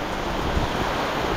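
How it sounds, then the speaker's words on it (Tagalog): A dense, roaring wash of heavy rain and strong wind rushes steadily over a farm, buffeting the microphone with low rumbles. "Lakas po yung ulan, tsaka hangin."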